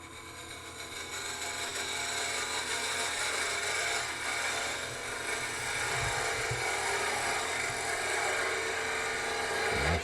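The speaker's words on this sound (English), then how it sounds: "using my 3/8 inch spindle gouge, I'm just taking it down a little bit and start that rounding process at the bottom" A 3/8 inch spindle gouge cutting into spinning wood on a lathe, a continuous loud hissing, rasping scrape close to the mic, steady throughout with slight swells as the cut changes.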